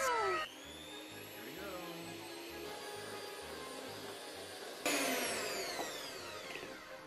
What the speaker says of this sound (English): Next, electric whisk for